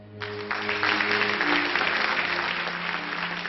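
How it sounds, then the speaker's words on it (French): A courtroom or theatre audience applauds a verdict, dense sustained clapping that swells and holds steady throughout, with faint background tones beneath. "Le public applaudit même à l'énoncé du verdict."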